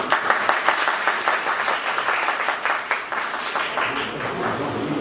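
Loud, dense audience applause fills a seminar hall in Etawah, a steady wash of many hands clapping together without a break for the whole stretch.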